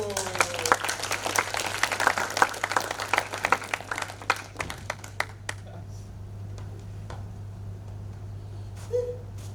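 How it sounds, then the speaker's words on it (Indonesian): An audience claps after a monologue stage performance, a busy burst of applause that thins into scattered claps and fades to near quiet under a steady low hum. "Tepuk tangan untuk sang pengagung panggung."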